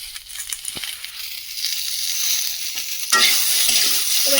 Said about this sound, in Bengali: এবার একটু নাড়াচাড়া করে নিলাম।